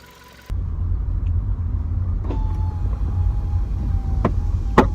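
A VW Polo 6C TSI fitted with a Tweek air filter drives on the road, a steady low rumble of engine and tyres heard from inside the cabin after a quiet start.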